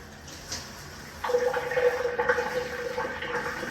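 A hotel shower is switched on partway through, and steady running water rushes and splashes close by, filling the small bathroom with a constant hiss after a quiet start.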